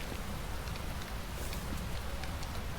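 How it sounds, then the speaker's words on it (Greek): Heavy rain inside the horror video game Phasmophobia, a dense continuous hiss and patter filling the space evenly, loud and steady with no pauses and no voices. "είναι τόσο δυνατή η βροχή"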